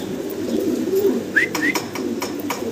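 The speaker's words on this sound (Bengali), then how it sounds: "ভিডিও স্ক্রিনে আপনারা দেখতেছেন এক জোড়া শার্টিন কবুতর" Soft, low cooing from a pair of Satin pigeons with a few brief chirps over steady background noise; a voice murmurs faintly.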